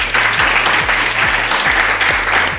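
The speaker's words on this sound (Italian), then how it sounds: "vogliamo fare un applauso a questa" Studio audience at an Italian television show applauding steadily, a dense wash of many hands clapping at a constant level, with a low electronic hum pulsing beneath.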